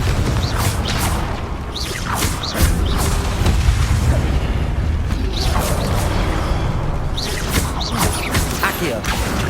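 A Confringo fire spell explodes during combat in Hogwarts Legacy, with dense rumbling booms, crashes and mechanical clatter filling the scene loudly and without pause.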